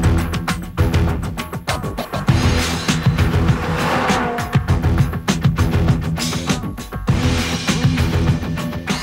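A 2005 BMW M5 with a new V10 engine and 7-speed sequential gearbox drives hard, its engine roaring loud and close with brief tire squeal, and no one speaks.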